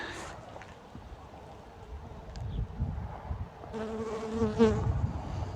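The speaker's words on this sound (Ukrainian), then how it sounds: "Вижила абрикоска і ще й працюють бджілки на ній." Bees work surviving apricot blossoms outdoors, their buzzing faint and near over gusty wind noise, with a louder pass of droning wings toward the end.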